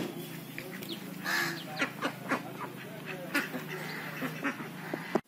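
Ducks quack in a group at moderate distance, with a pigeon perched nearby; repeated short calls sound over a steady outdoor background, with faint talk at moments.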